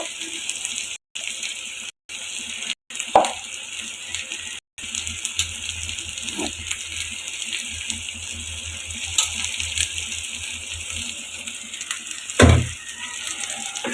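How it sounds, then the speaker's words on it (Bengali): Dried fish sautés with spices in a pan: a steady, quiet sizzling hiss with occasional scraping clicks from stirring, lasting throughout. "এখন আমি এই শুটকিটা মশলার সাথে ভালো করে এখন একটু কষিয়ে নিব"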